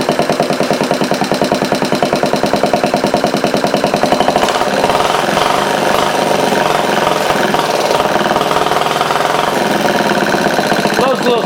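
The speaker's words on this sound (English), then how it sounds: "Hey, nice run, little engine." Homemade overhead valve Briggs engine running at idle, a steady rapid chugging pulse close by with a busier, rougher texture developing partway through.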